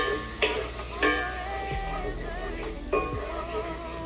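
Garlic sautéing in a pan, a moderate steady sizzle with a few sharp scrape and tap accents from stirring, plus a faint tonal whine running underneath.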